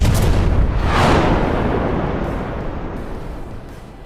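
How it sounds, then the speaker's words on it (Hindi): A big, loud anime explosion from a punch bursts at the start, a deep roaring boom that slowly rumbles and fades over several seconds. "जिससे वहां पर एक काफी बड़ा धमाका होता है।"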